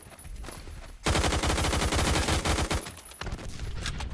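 Rapid automatic gunfire from the online shooter game Phantom Forces, a loud sustained burst of overlapping shots lasting about two seconds amid other game noise, with no talking.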